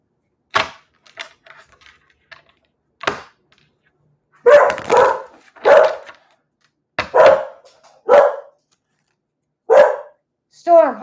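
A dog barks several times at irregular intervals, sharp and close, with quiet gaps between the barks.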